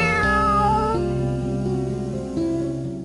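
A drawn-out, wavering cat meow in the video game Last Resort, loud and close, stretching over a few seconds with no talking.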